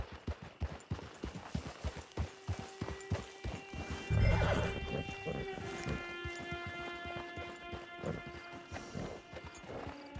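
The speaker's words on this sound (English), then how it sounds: "Get your horse." A horse in the Red Dead Online video game clip-clops along with rhythmic hoofbeats, then lets out a loud, close whinny midway while hooves continue underneath, with bright musical tones ringing in the background.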